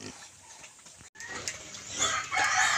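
Chickens cluck and a rooster crows amid farmyard bird calls on a provincial Philippine farm with pigs, fairly close, with a brief dropout partway through.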